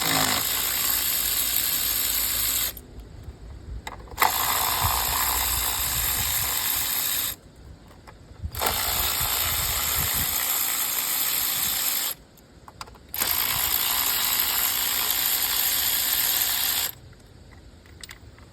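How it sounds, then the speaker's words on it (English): An electric ratchet spins out 10 mm ignition coil bolts on a Kia Sorento engine in loud whirring bursts of several seconds each, separated by short pauses. "use this awesome ratchet I got off Amazon"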